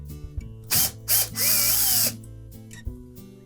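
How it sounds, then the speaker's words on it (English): A power driver removes a 1/4-inch hex head screw from a Whirlpool washer in three short whirring bursts, the last one longest, with faint clicks of handling between them. Close by and with no talking. "So we'll take out this 1/4-inch hex head screw."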